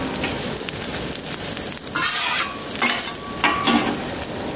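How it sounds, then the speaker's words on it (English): Eggs cooking in vegetable oil on a Camp Chef flat top griddle, a continuous close sizzle with scraping spatula strokes swelling in a few bursts, no talk. "Go ahead and put a little more vegetable oil down"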